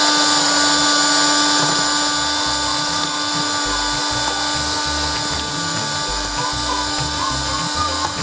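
An electric kitchen chopper grinds dates, giving a loud continuous motor whine with a choppy, rattling grind underneath that holds steady for several seconds. No voices are heard.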